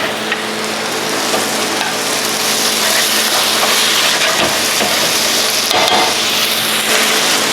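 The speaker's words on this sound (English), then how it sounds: "Then we're gonna add in our ground pepper. Give it a nice toss again." Pork liver sizzles loudly in a hot pan as it is tossed with ground pepper for Filipino igado, a steady frying hiss broken by a couple of scraping stirs.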